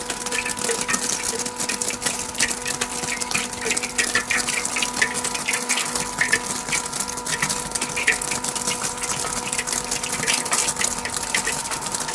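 A 20-ton-per-day flake ice machine churns out ice flakes with a steady, dense crackling and rattling over a constant mechanical hum, continuous and close.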